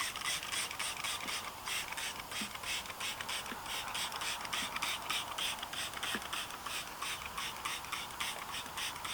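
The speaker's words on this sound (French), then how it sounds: "On va secouer le produit pour bien mélanger." A bottle of Lumicar wheel rim cleaner shaken rapidly and steadily, giving a fast, even rattling beat throughout with no talking.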